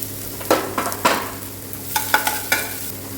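Chopped garlic and ginger frying in oil for a banana stem kofta manchurian, a steady sizzle with several sharp scraping stirs of a spoon against the pan, close and alone with no talk.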